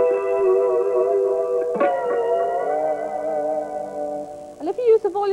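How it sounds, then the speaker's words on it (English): Electric guitar notes swoop in pitch as a tremolo arm bends them, a sustained harmonic-rich tone wavering and sliding, with a sharp bend partway through and a quick warbling dip near the end, played alone. "You can change the pitch of the notes using the tremolo arm"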